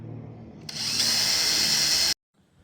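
A power drill bores holes into a plastic transmission splash guard on a Ford F150, whirring loudly and steadily for about a second and a half before stopping abruptly, with a lower motor hum just before it.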